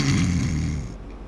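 A human voice imitates a motor revving up, a short low rumbling growl that swells and then fades over about a second, delivered alone.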